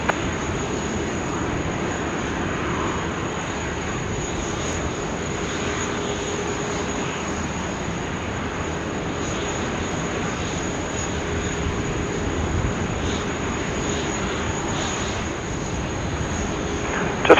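A plane lands on runway 16 right at Sydney Airport, heard as a steady, loud broadband engine roar that holds level throughout with no talking.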